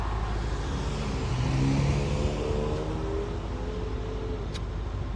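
A car engine hums loudly and steadily from inside the vehicle, swelling in a low rev as the driver works the gas, then easing off.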